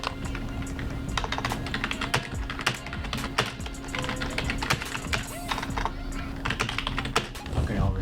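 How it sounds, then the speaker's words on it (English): Rapid clattering keystrokes on a gaming membrane keyboard, close and steady throughout, with a noticeably louder thump from the spacebar standing out among the key presses. "I can already hear the difference in typing. See, like this, the spacebar is so loud."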